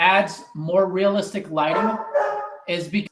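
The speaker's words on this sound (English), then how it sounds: "I'm assuming you guys can hear the dog barking." A dog barks several times in the background while someone talks steadily over it, the barks partly masked by his voice.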